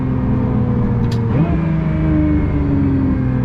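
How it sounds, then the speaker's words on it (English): The rumbling V12 engine of a Pagani Utopia with a brief high whistling hiss and a sharp pitch shift midway as the turbos spool and release, loud and close. "Also you get the turbo noises."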